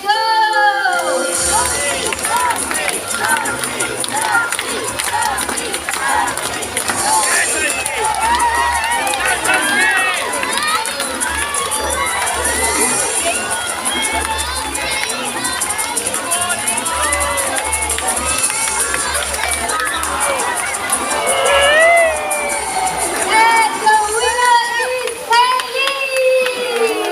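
A bird show crowd at Jurong Bird Park in Singapore, children among them, shouts and cheers steadily and loudly for the whole stretch, cheering on birds racing to gather fruit.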